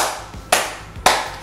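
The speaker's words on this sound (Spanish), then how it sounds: "aplaudimos" Two sharp hand claps land about half a second apart during a seated exercise class for older adults, each preceded by a soft rubbing of palms, close and clear with no talk.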